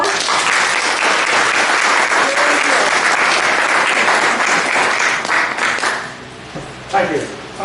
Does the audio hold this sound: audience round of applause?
yes